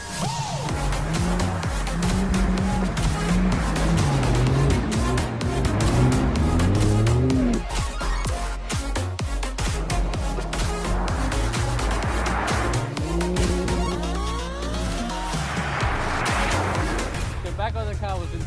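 A Porsche is driven hard through corners at a Race of Champions event in Sweden, its engine note rising and falling steadily with gear changes and tire noise while someone talks over it throughout.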